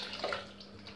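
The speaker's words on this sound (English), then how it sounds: "let's just pour some of the blue water off" Soapy blue water poured off a men's shave soap dish, a faint, brief trickle and splash heard close up and quiet, with no talking.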